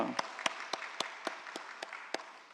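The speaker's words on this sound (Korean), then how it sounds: "우리 하나님께 영광과 감사의 박수 올려드립니다" A church congregation gives a short burst of applause after a sermon, about nine clear, evenly spaced rhythmic claps over a faint bed of scattered clapping that tapers off.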